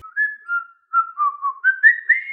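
A person whistles a short, wavering tune of several quick notes, clear and close with no other sound around it.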